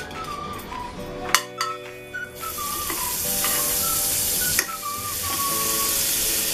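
Butter melting in a pan on the stove sizzles loudly, with a few sharp metallic clicks and scrapes early on before a steady, bright frying hiss takes over and holds, close up with no talking.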